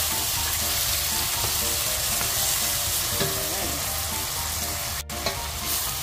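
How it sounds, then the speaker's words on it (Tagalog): Tomatoes sizzle and fry in a pan for a Filipino sautéed bottle gourd dish with sardines, a loud continuous crackle with stirring scrapes and one sharp click near the end, with no talk. "Lagyan natin ang kamatis. Ayan. Halu-haluin po natin."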